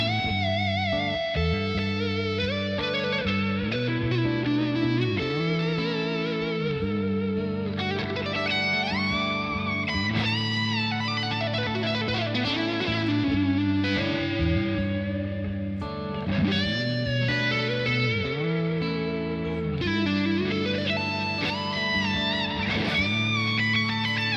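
Distorted electric guitar plays a continuous chordal passage drenched in reverb, loud and sustained throughout with no voices.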